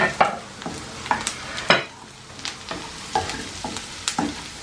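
Garlic hits a pan of onions that have already fried for a couple of minutes and is stirred over high heat for a broccoli and bean stew with bacon. A close sizzle runs throughout, broken by repeated sharp scrapes and taps of the spatula, with no talk.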